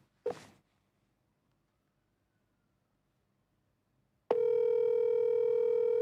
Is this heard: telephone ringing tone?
yes